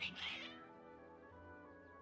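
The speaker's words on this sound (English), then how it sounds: "Your cats seem pretty worked up." Several agitated cats meow and yowl in a video game, with a loud burst of cries at the start and then fainter, sustained tones from the game's background music.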